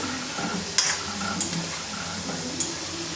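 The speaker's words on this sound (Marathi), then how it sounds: "असं मस्त सोनेरी कलर येईपर्यंत छान तळून घ्यायचे" Steady crackling sizzle of steamed dhonde dumplings deep-frying in hot oil until golden, with a few sharp clicks of a utensil against the pan and no voices.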